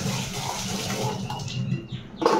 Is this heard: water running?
yes